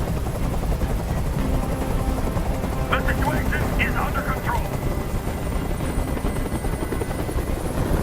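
Continuous rotor thrum of a helicopter hovering overhead in the video game Detroit: Become Human, loud and steady throughout while a voice speaks briefly in the middle.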